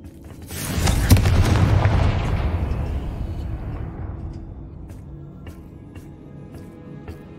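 A single loud Confringo spell explosion booms in Hogwarts Legacy, a sharp blast that swells into a broad rumble and then fades slowly over several seconds.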